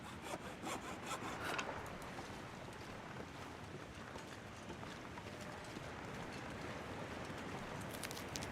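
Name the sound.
hacksaw sawing scrap in a video game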